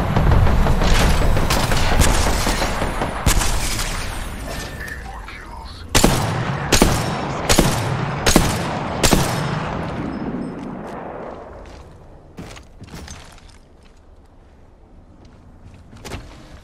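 Gunfire and explosions in the battle royale game Apex Legends: a loud opening barrage, then a series of sharp, evenly spaced shots, tapering into sparse distant pops over a fading ambience.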